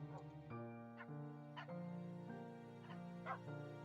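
Dog barks and whimpers from a video game, several short yips and whines in a rough rhythm over a steady tonal music bed.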